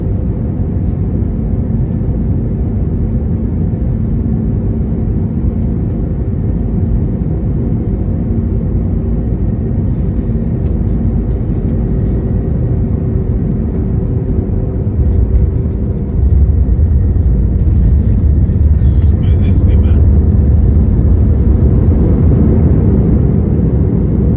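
A passenger airliner lands smoothly, heard from inside the cabin as a loud, steady roar of engines and airflow that swells into a heavier rumble as the wheels meet the runway.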